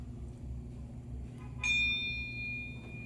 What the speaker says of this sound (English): So I can only bring in this small first titanium difference tone bell